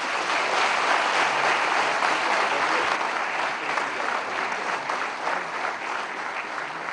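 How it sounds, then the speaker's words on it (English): A seminar audience gives a long round of applause: dense, sustained clapping that stays loud throughout and eases off slightly toward the end. "a huge round of applause again"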